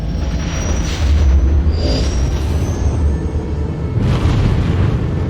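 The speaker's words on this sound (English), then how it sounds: "let's go with the gunshot" A loud, heavy gunshot boom from Star Wars: The Old Republic rings out with a long rumbling tail, followed by a second blast later, all close and dominant with no voices.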